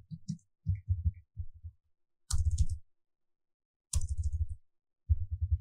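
Computer keyboard typing, close and crisp, in several short bursts of rapid keystrokes separated by brief silences.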